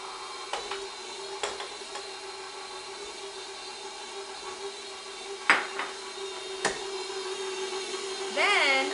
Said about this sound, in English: then I'm going to start that mixer